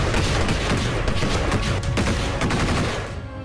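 Gunfire along the Line of Control in the Uri sector: a dense burst of rapid shots rattles in a loud, continuous volley, then eases off slightly at the end.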